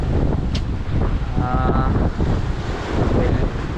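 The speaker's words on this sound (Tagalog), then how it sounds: "lumalakas na rin yung alon" Heavy wind and building sea waves surge around a small fishing boat offshore, a loud continuous roar of gusts and surf with a brief faint tonal whine partway through.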